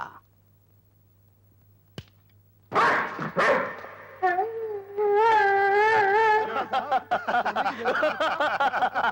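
Dog barking in a movie scene, a run of loud, close barks and yelps after a sharp thud, continuing in a rapid, uneven series with a faint hum underneath.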